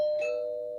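A doorbell chime rings a single clear tone that sustains and slowly fades, close and alone in a quiet room.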